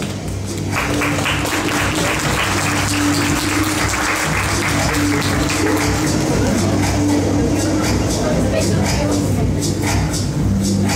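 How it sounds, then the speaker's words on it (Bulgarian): Loud, steady audience applause fills a fashion show hall at a youth fashion talent competition in Varna, continuous clapping with crowd murmur throughout. "Аплодисменти за модела на професионална гимназия по Брегло на Русе"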